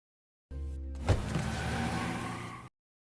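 A car pulls away and drives off, engine noise rising and sustained for about two seconds with a brief thump near the start, then cutting off abruptly.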